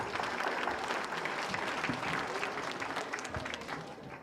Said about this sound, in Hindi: तो हमारे नन्हे मुन्ने बच्चों के लिए जोरदार तालियां तो बनती हैं।